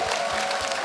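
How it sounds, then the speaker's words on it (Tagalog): A live studio audience on the Eat Bulaga game show claps in a dense, steady burst of applause that fills the whole moment. "yung palakpak lang po ang binibilang, hindi kasama yung woo"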